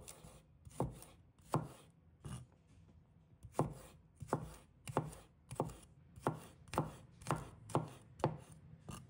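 A kitchen knife slices garlic cloves and scallion whites on a cutting board: about a dozen crisp, close knock-and-tap strokes land in uneven clusters, each followed by a short scraping tail.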